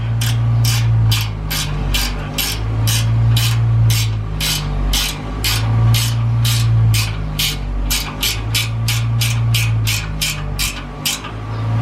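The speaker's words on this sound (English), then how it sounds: "On these custom made brackets, gonna tighten that because I think that's what you should be doing." A ratchet wrench tightens bolts on custom-made intercooler brackets on a turbocharged K20 engine: a steady series of rapid, regular clicking strokes, close and loud, over a constant low mechanical hum throughout.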